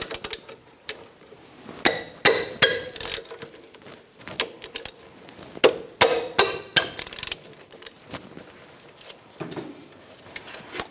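Metal clanks and ratcheting clicks from a 14mm socket loosening the front brake caliper bolts on a 2004-2009 Toyota Prius, scattered irregular taps and knocks close to the microphone with quiet gaps between them.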